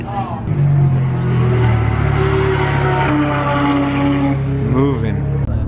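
A Ferrari F12 engine roars loud and close as it accelerates on a race track, its pitch climbing steadily through the gears with a brief dip near the end, and a voice talks over the engine.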